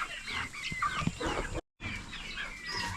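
Young chicks cluck and cheep in an old hatch barn on a homestead, a busy, overlapping chorus close by, broken by a brief dropout, with no talking.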